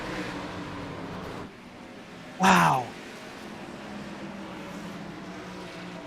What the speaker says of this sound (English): Listen to the engine revving, spinning the tires.